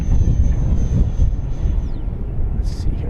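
FMS Viper Jet 70mm RC model sport jet with an electric ducted fan, roaring steadily in flight with a broad, loud whoosh and a high whine that bends downward as it passes.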